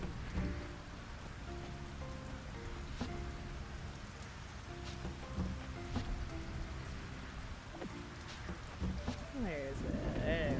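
Steady rainfall in a cozy farming video game, a continuous soft patter throughout, overlaid with light game chimes and tones while a person talks over it.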